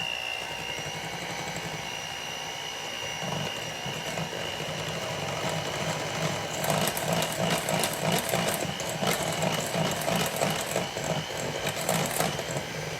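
An electric mixer whirs continuously as it mixes a blueberry delight dessert, giving a steady buzzing drone. The whirring grows busier and slightly louder partway through, with rattling pulses over the last few seconds.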